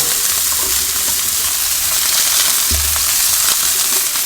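Steady, loud sizzling of salted and peppered Meltique wagyu beef searing in a hot frying pan, a continuous crackling hiss with occasional sharper pops and stirring.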